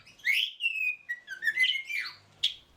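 Birds chirp and whistle in quick, bright, rising and falling calls, close and clear with no voices over them.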